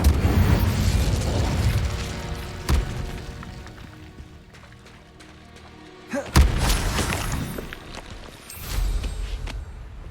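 A fiery Incendio spell is cast in Hogwarts Legacy, with several loud whooshing bursts and booms separated by quieter stretches, one sharp blast standing out near the middle.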